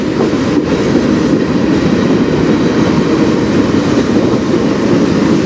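A freight train of Government of Canada hopper cars, the kind used for potash, rolls past close by with a loud, steady rumble of wheels and faint clatter throughout.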